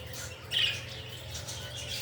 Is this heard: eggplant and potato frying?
no